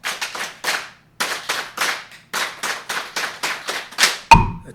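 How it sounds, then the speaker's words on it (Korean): A lecture audience claps out the 3-3-7 rhythmic pattern in crisp, close groups of hand claps separated by short pauses, ending with a heavier thump. "기분전환 337 박수 시작."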